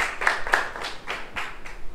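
A small audience at an accounting quiz contest claps after a correct answer, a short burst of distinct handclaps in an uneven rhythm, close and moderately loud, with no talking.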